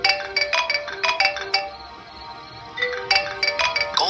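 A mobile phone rings late at night in a quiet bedroom, its bright electronic ringtone playing in two bursts of repeated tones with a brief lull between them.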